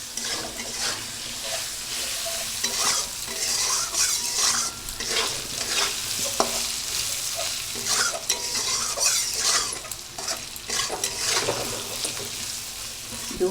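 A paste of ground ginger, cumin, green chilli, onion and garlic hisses and sizzles steadily in a hot pan for an egg and potato curry, with spoon scrapes and stirring clatter throughout and no talk.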